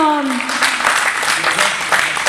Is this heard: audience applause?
yes